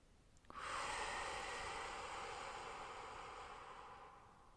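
A single long, steady breath, drawn and released slowly during a relaxation exercise, close and fairly loud, fading gently toward the end with no talk over it.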